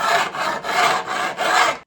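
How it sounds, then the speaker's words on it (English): A metal file rasps along guitar frets to level them flat with the fretboard edge, four rhythmic back-and-forth strokes heard up close with no talk. "So it's just some time spent with a file."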